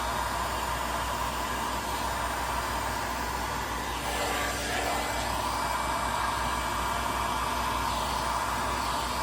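Hot air heat tool blowing across mixed white acrylic paint, a constant hissing rush at steady volume for several seconds, with no voices.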